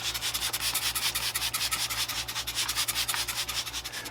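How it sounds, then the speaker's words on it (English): A wet purpleheart end grain cutting board is sanded with rapid, rhythmic back-and-forth rubbing strokes, close and steady, with a low motor hum underneath and no talking. "I've wet the boards down again for their final sanding."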